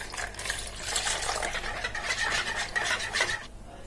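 Milk poured from a cup into spinach crepe batter, a soft, steady liquid splash and gurgle for a few seconds that cuts off abruptly near the end, heard close and fairly quiet with no talk.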